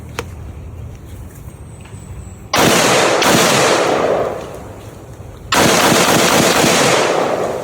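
Two loud, sharp reports from a Taurus T4 rifle fired at an outdoor range, several seconds apart, each followed by a decaying echo over a quiet, hissing background.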